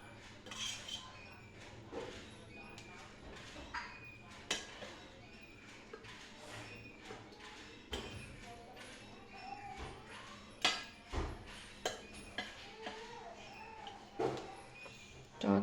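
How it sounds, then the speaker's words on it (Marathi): A wok set on a gas stove and oil poured in, heard as a run of metallic clanks, knocks and spoon clinks at irregular intervals, fairly quiet and close. "आता आपण गॅसवरती एक कढई ठेवून त्यामध्ये 3 ते 4 चमचे तेल घालून घेऊ."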